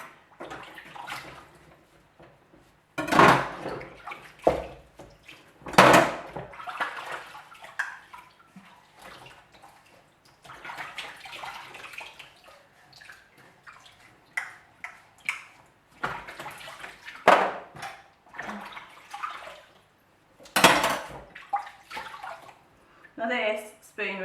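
Dishes being washed by hand in a basin of water without washing-up liquid, with intermittent splashes and clinks of water while a person talks over the sloshing.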